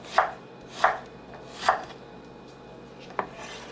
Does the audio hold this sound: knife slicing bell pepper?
yes